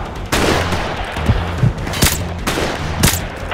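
Sniper and automatic gunfire in the Modern Warfare Remastered video game, with several loud, close shots and bursts over a dense battle background.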